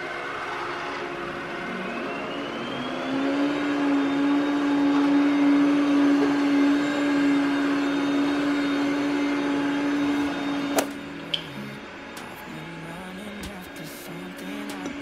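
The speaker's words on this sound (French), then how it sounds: "on va enclencher le petit aspirateur qui va m'aspirer le sol et me laver le sol" A robot vacuum vacuums and mops a home floor with a loud, steady motor hum and a sustained whine. The whine cuts off near the end, leaving a few clicks and softer running noise.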